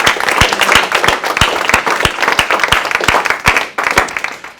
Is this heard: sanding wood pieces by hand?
no